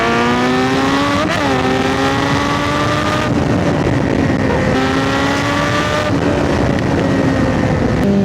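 A Kawasaki Z900 motorcycle engine drones loudly and up close, its pitch climbing through short gears with brief dips at each shift, continuous and alone.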